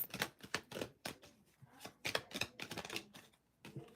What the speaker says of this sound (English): I just shuffled these.